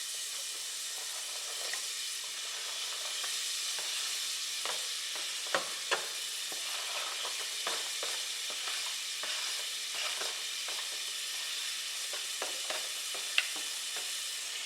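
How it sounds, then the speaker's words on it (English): Chopped celery and onion sizzle steadily in olive oil in a soup pot, a constant hiss with scattered pops and crackles and a few sharper spits, close by with no talking. "I'm going to add a little bit of olive oil. And my celery and onion that I have chopped up."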